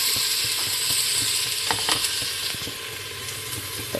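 Salmon sizzling steadily in a hot pan, a loud continuous frying hiss with a few brief scraping clicks near the middle, no voices.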